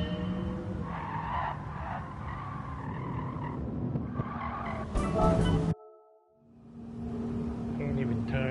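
Electric car in a racing video game skids and turns, a sustained tire squeal with engine whine, then a brief harsh burst and a short dropout before driving noise resumes; someone talks over it.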